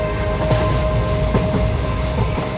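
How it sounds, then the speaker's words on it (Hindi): A train starting to move, a steady rumbling rail ride with a few soft clicks and clacks over a constant hum, with no voices. "ट्रेन चलने लगी"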